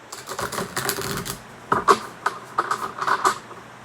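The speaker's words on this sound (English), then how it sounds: "I'm going to start shuffling the cards really quick" Tarot cards are shuffled quickly close up, giving a run of crisp, irregular riffling and tapping clicks with brief pauses between bursts.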